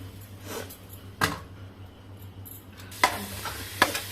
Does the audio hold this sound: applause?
no